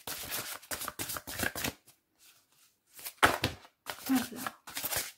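Tarot cards are shuffled and drawn in quick bursts of riffling and slapping, close and crisp, broken by short pauses.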